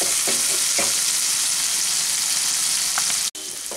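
Tomatoes fry in a pan for potato fried rice, giving a loud, continuous close-up sizzle with a few stirring scrapes and a brief dropout near the end.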